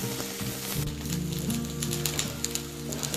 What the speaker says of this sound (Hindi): और अब इसको धीमी आंच पे मैं 10 मिनट फ्राई करूँगी।